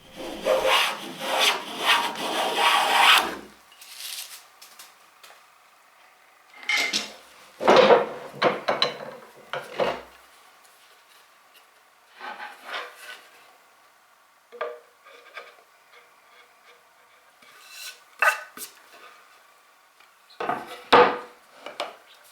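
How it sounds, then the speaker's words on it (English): Hand plane drawn along the joint edges of oak boards, a series of separate rasping, hissing strokes with quiet gaps between them, close and moderately loud, with no talking. "As soon as I'm getting a full width shaving from both of the boards, then the joint should be finished."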